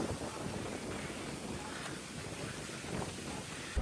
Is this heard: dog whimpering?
no